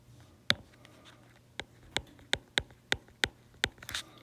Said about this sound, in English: So let's write that down.